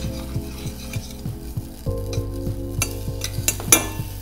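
Beef femur marrow browns in a pan over an induction hob, a steady close sizzle with regular stirring scrapes and a few light utensil clinks, no voices.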